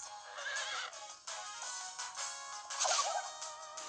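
In the video game Miitopia, a horse gives a loud, shrill whinny during a mounted attack, the neigh rising and falling in bursts with sharp hits and a clattering impact around the middle.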